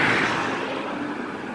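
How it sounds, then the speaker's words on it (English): Steady roadside traffic at a bus stop, a continuous broadband rush of passing vehicles that stays fairly loud and even throughout, with no voices over it. "I'm at the bus stop, so if you hear noise in the background, that's why."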